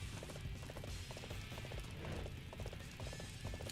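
Horse hooves clip-clop steadily in the Dynasty Warriors 8 battlefield, a fast rhythmic galloping of repeated hoof strikes over a dense, continuous bed of combat noise and low rumble.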